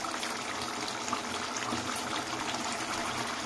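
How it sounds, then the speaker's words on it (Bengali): Water is poured into a pan of simmering turkey curry, giving a steady, continuous gushing and bubbling wash at moderate loudness. Nobody talks over it. "তো আমি একটু জল দিয়ে দিলাম"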